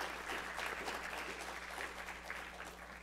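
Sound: audience applause for the speakers

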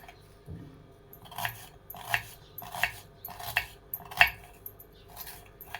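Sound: onion being finely chopped with a knife

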